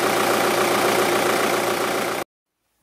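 A 2006 Audi A3 engine runs steadily just after starting, a dense continuous idle rumble heard close up for about two seconds before cutting to near silence.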